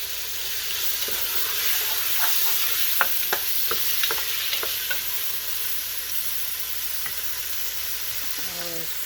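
Ginger sizzling and frying in a pan for chicken arroz caldo, a steady close hiss broken by a run of sharp stirring clicks and scrapes, with no talking.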